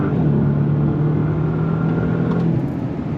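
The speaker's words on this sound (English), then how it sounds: "it cranks that V8 engine on, and it's on like Donkey Kong" A 2025 Bentley Continental GT Speed's V8 engine accelerates with a steady, loud, close rumbling drone that climbs in pitch, with road and wind noise underneath and no talking.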